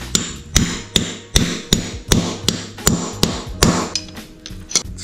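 A hammer strikes a crimping tool to press a copper lug onto heavy battery cable during a Honda S2000 big-three wire upgrade; about ten sharp, evenly spaced whacks ring out close and loud with no talking.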